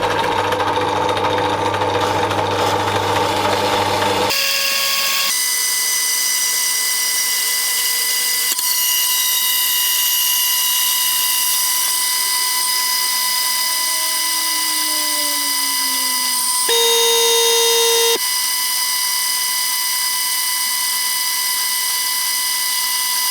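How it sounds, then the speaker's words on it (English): A bandsaw makes a slow, light cut through a Land Rover 110 B pillar part, giving a steady, close mechanical whine with sustained tones that shift slightly partway through and a brief change near the end. No one speaks. "I'm going to take a very light cut and just assist the bandsaw on its way down"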